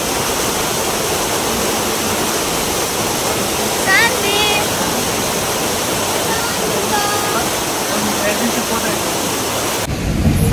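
Large waterfall heard up close on a trek near Kukke Subramanya in Karnataka, a loud, steady roar of rushing water filling the whole clip while a voice speaks briefly over it.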